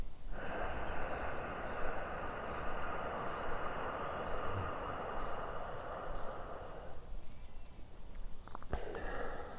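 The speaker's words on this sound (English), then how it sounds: "this, if anyone's studied pranayama meditation or anything like that before, would be called the Ujjayi breath" A person takes a slow Ujjayi breath, deep diaphragm breathing through the nose with a constricted throat. It makes a steady, breathy hiss that holds for about seven seconds, then fades into quiet.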